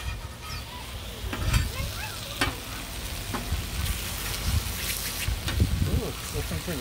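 Food sizzles and crackles on a griddle turned down to its lowest setting, with a steady hiss broken by sharp pops and the occasional scrape of a spatula. A voice speaks over it briefly.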